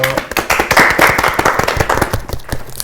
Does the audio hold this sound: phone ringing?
no